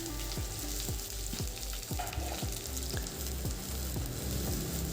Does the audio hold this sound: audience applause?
no